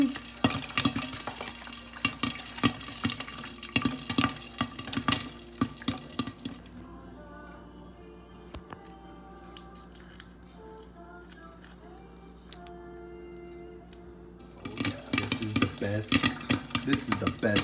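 Popcorn kernels popping in a covered pan on a lit stovetop, a mid-level steady sizzle broken by scattered sharp pops, with louder clattering and stirring noises at the start and end.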